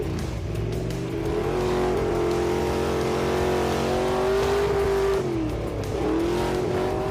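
A race car on a desert dirt track, its engine roaring loudly and continuously as it revs and accelerates, with the pitch rising and falling through gear changes.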